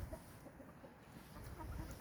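Faint, low clucking from chickens amid a dull, noisy background hum, scattered soft calls throughout.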